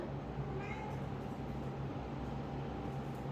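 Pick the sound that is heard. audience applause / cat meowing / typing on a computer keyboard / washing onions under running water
cat meowing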